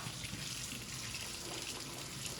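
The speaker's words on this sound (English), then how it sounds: "So, colander. Let's rinse these berries." Fresh cranberries are rinsed in a colander under a steady stream of running tap water, a continuous close hiss and gush without pauses or voices.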